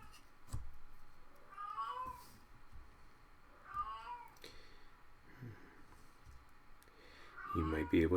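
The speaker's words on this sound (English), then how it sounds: "You might be able to hear my cat Percy meowing" A domestic cat meows softly several times at a distance, with brief drawn-out calls spaced a couple of seconds apart, under quiet speech and faint clicks, ending in a louder, closer meow.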